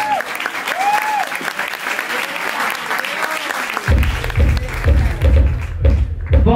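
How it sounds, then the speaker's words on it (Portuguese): Applause for a performer named Lua at a kiki ball, a burst of crowd clapping and cheering that swells over an indoor hubbub, with a loud pulsing music beat kicking in partway. "Uma salva de palmas para a Lua,"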